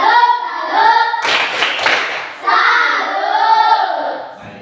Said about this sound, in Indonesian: kita tepuk tangan lagi kepada kelompok berbicara